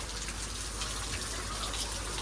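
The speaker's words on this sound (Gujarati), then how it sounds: "વરસાદ ચાલુ થયો છે" Rain falls steadily outdoors, a dense continuous wash of hiss and patter, close and even throughout with no voices.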